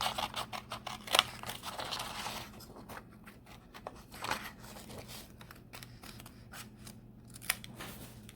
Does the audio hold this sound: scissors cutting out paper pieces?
yes